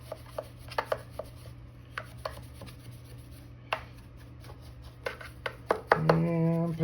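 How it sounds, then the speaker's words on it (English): A brush polishes wax on an epoxy-bound sand core for cast iron, making short dry scrubbing strokes in an irregular rhythm, close and fairly quiet, ending in a sustained louder scrubbing burst. "I use the brush, wiping off the extra wax from the bristles, and just polish it like you were using a shoe brush."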